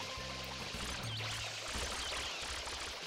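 Water pouring and trickling as a refill in a Mario video game, a steady continuous gush with game tones underneath, no talking.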